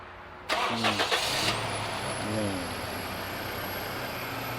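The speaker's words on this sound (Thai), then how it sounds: "นี่คือห้องเครื่องครับ เอาสตาร์ทเลยครับ" A 2005 Toyota Fortuner 2.7 4x4 SUV engine cranks with a few quick turns, then catches and settles into a steady idle with a faint high whine, close by.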